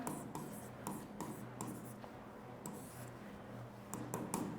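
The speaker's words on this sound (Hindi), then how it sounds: "तो ये स्टेप्स हम लिख रहे हैं।" Pen writing out the steps of an intraday trading strategy, a run of short scratchy strokes with brief pauses between them, close and fairly quiet, with no talking over it.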